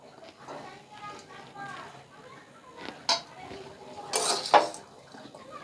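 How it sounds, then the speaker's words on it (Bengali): Chicken masala being mixed into fried rice in a pan, heard as spoon and pan clinks and scraping under a speaking voice, with a few sharper metallic knocks near the end. "এবার আমি রাইসের মধ্যে মিশিয়ে দেব।"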